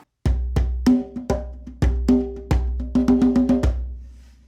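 A simplified drum rhythm for the fourth measure of a phrase: sparse, punchy hits with a deep low thump. A quick cluster of strokes comes near the end, then the kit rings out, close and without talk.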